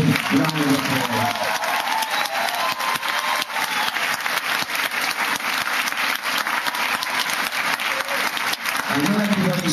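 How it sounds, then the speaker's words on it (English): A large crowd at a tournament opening ceremony claps loudly and continuously, dense applause filling the hall for the whole stretch while people talk and call out underneath. "I think really you've got to give yourselves a big round of applause"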